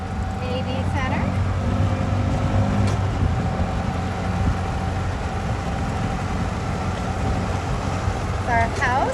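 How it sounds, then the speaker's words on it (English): A golf cart drives onto a farm property with a steady low motor hum and road rumble close by, a few brief squeaks and rattles, and no voices in the clip. "We're in the golf cart."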